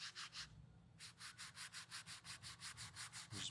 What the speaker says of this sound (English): just brush it a little bit